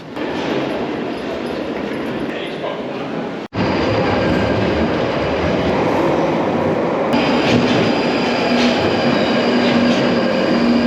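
A London Underground train rumbles loudly through Tottenham Court Road station, with steady wheel noise, a brief cut, then squealing wheels and a high whine as it slows.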